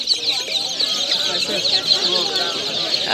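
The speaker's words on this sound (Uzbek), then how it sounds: "Kichkina jo'jalar ham bor" Chicks cheeping in a dense, continuous chorus at a poultry market, high-pitched and close, with overlapping peeps and occasional clucks from older fowl.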